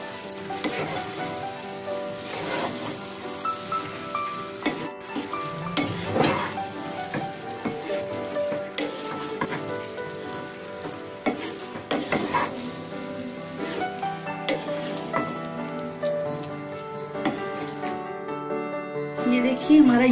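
Pasta being stirred and fried in a pan, with a continuous sizzle and occasional stirring clatter throughout, set under steady background music.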